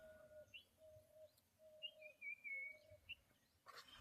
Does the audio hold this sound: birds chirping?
yes